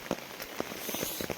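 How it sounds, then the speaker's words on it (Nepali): Heavy monsoon rain in the month of Jeth, heard while walking outdoors on a slippery road: a soft, steady patter of drops with scattered sharper taps, fairly faint and continuous, with no voices. "झरीमा हिँडिरहेको छौँ। पानी परेर बाटो चिप्लो चिप्लो भएको छ।"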